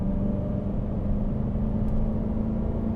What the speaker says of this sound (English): you can just hear that exhaust resonating in the back there